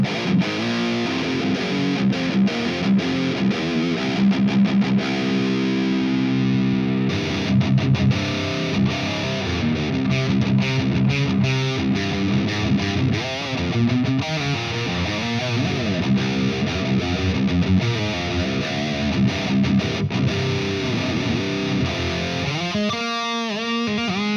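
Heavily distorted electric guitar through an ML Sound Lab Amped ICON amp simulator plays high-gain chords and riffs with amp-like saturation, loud and continuous, briefly stopping near the end before a short burst resumes.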